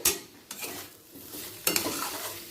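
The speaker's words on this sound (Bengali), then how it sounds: "তেলটা আলু আর ডাঁটার সাথে মিশিয়ে নিয়ে গ্যাসটাকে বন্ধ করে দেব" Potato and drumstick pieces are stirred with mustard oil in a pan: a few close scraping strokes of a spatula over a soft, steady sizzle.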